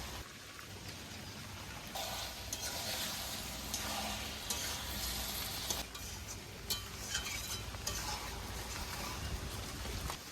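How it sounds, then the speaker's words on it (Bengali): Fried potatoes tossed into a sizzling desi duck curry and stirred in the pan, a continuous crackling fry with intermittent scraping stir strokes, close and fairly quiet, with no talking. "ভেজে রাখা আলুগুলো এবার দিয়ে দেবো।"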